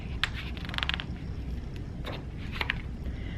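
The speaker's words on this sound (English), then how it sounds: "Yoshio heard the creak of the school gates as he pulled them open." A couple of thin, drawn-out creaks from a metal school gate being pulled open over a low outdoor rumble.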